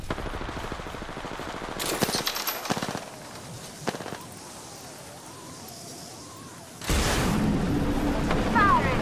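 Automatic weapon fire in the video game Apex Legends crackles in rapid bursts, then gives way to a lull with game sounds and a heavy roaring blast near the end.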